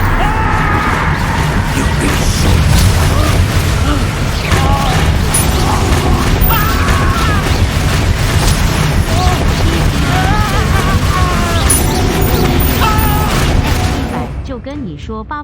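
Loud, dense spell blasts and explosive booms from the Confringo spell in Hogwarts Legacy combat, running continuously under a talking voice and game sounds before fading at the end.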